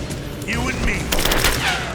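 Gunfire during a firefight in Rise of the Tomb Raider, several rapid shots and bursts layered over loud game noise and shouted voices.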